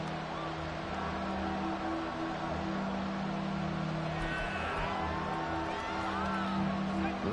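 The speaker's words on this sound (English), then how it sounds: "This crowd doing all they can." Steady crowd roar from a stadium in the football game Madden 25, a dense continuous wash of cheering throughout, with a commentator speaking over it.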